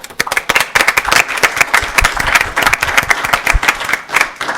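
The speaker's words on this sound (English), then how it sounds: "That deserves applause right there." A small audience at a township board of trustees meeting claps for a long-serving zoning appeals board member, a lively burst of distinct, sharp claps from a modest crowd that keeps going at a steady, uneven patter.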